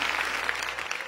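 Audience applause in an Indonesian Quran memorization TV contest studio: a brief, steady burst of clapping.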